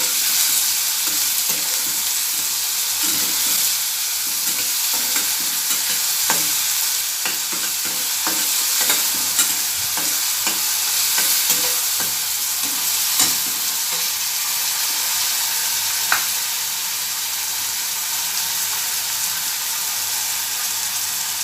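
Finely chopped large onions sauté in a pan, a steady sizzle running throughout with occasional stirring clinks and scrapes, close and unbroken, no voices.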